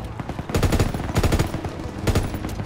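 A machine gun fires in Call of Duty: WW2 in two rapid bursts of closely spaced, heavy shots, loud and near, with a brief lull between them.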